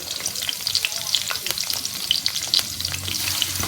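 Chopped onions, one cup, frying in about two and a half tablespoons of oil for chicken biryani: a steady, close, dense sizzle with crackling pops throughout and no talking.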